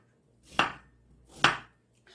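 A kitchen knife cuts radish on a cutting board in two distinct, sharp chops about a second apart, close and clear against near silence.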